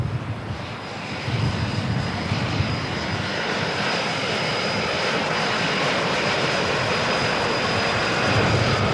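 A mail-carrying airplane flying in, its engine a steady, loud drone that builds slightly and holds throughout with no voices.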